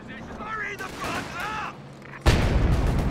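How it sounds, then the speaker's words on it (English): In a Company of Heroes battle, a large grenade or satchel blast bursts suddenly and loudly, with a broad rumbling roar that sustains after the hit. Game voices and chatter fill the moments before it. "Jeez, that's a big grenade"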